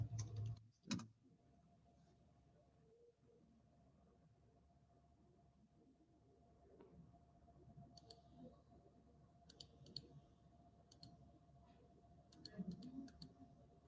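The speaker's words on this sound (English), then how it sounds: "So type our name." Quiet keyboard typing at a computer, a few soft clicks and short bursts of keystrokes, faint and somewhat distant over a low hum.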